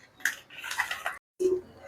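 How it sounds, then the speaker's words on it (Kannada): A metal cooking vessel picked up and handled in a home kitchen, with a few clinks and scrapes, a brief pause, then a final ringing knock. "ಸೊ ಈಗ ನಾನು ಪಾತ್ರೆ ತೊಗೊತಾ ಇದ್ದೀನಿ."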